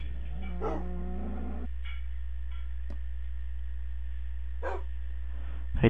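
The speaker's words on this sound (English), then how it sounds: "Hey, doggies." Tamed wolves in Minecraft give a few short synthetic barks and whines, separated by pauses over a constant low hum, fairly clear and close, with no talking.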